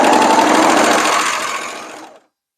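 A sewing machine stitches fabric along a curve on an alteration to a special occasion dress, a steady loud mechanical whir running alone for about two seconds before stopping abruptly.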